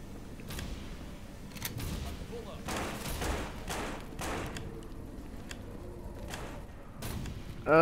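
Remington shotgun gunfire in the zombie survival game No More Room in Hell, several heavy booming shots at irregular intervals amid thuds and game noise, with voices talking over much of it.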